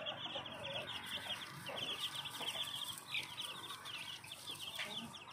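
Farm-raised black chickens in Phetchabun, Thailand, cluck and chirp continuously nearby, a busy overlapping chatter of several birds at moderate volume.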